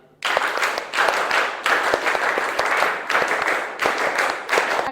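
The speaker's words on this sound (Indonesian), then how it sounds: "Tepuk pramuka 5 kali." A school class performs the rhythmic Indonesian scout clap, tepuk pramuka, in unison: repeated bursts of many hands clapping in a set pattern, each burst separated by brief gaps, close and lively.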